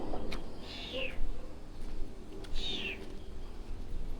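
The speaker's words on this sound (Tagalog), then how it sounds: "Kawawa naman mga pusa." Cats meow beneath a bridge, two clear drawn-out meows about a second and a half apart, moderately near, over a constant low rumble of background noise.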